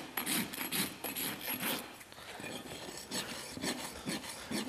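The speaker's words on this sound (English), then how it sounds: "Rasp a nice flattened spot where a portion of my bar and my heel come together" A hoof rasp files a horse's hoof during a barefoot trim, rough rhythmic scraping strokes heard close and repeated in quick succession without speech.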